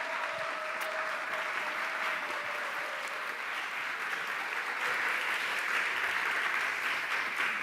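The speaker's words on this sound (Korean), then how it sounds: "여러분 우리 응원과 또 사랑과 격려의 마음을 담아서 박수로 모시겠습니다." A church congregation applauds a young preacher at a Sunday service, steady continuous clapping filling the room at moderate level, with no speech over it.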